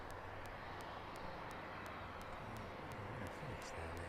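Aircraft engines drone steadily overhead near East Midlands Airport at night, a broad continuous roar heard from a distance with faint periodic ticks over it.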